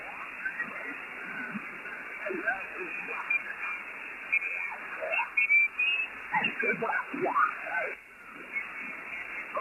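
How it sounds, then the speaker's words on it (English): Two amateur radio signals sit side by side on a receiver tuned off solar power in Hawaii, heard as band-limited, warbling voice-like audio with whistly tones, a steady hiss underneath and a brief dropout near the end. "Now here's 2 signals side by side."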